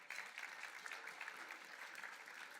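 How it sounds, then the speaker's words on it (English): Audience applause from a leadership event crowd, steady clapping throughout the short stretch, heard faintly and from a distance. "Round of applause for table 12."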